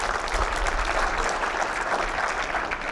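Steady applause from a workshop audience, dense continuous clapping at moderate volume throughout with no break.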